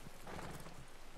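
A horse paws at snow in the Red Dead Redemption 2 video game, a quick pair of soft hoof scrapes and thuds under a steady background hiss.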